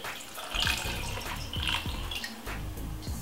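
Water runs and splashes into a glass with lemon and cucumber in short bursts, a close, bright trickling with gurgles between pours.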